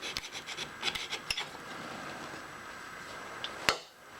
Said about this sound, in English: now we take the file to it and get rid of the burr.